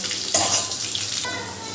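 Potatoes frying in a pan for mutton biryani give a steady, close hiss and sizzle, with a sharper crackling flare as they are stirred or tossed partway through.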